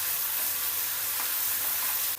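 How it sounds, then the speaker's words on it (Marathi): Garlic paste with asafoetida frying in hot oil in a kadhai, a steady, bright, close sizzle that hisses continuously and drops off abruptly at the very end, with no talking. "तेल गरम झालेलं आहे, हिंग टाकायचं, लसणाची पेस्ट परतून घ्यायचं"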